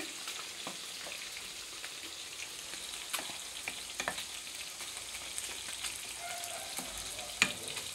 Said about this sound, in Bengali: দেখো মাছ ভাজা হচ্ছে একদিকে,